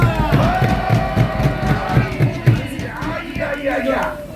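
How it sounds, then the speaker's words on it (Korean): A large crowd at a Korean political rally cheers and yells in a loud, rhythmic chant with pulsing shouts. The sound then loosens into general crowd noise and scattered voices. "큰 박수 한번 부탁합니다."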